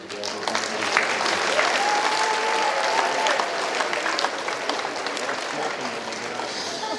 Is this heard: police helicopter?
no